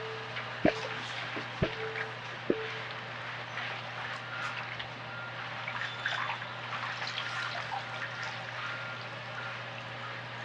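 Excess water drips off freshly dipped flowers and foliage in a few distinct drops early on, then a soft steady trickle continues over a low background hum, with no talking.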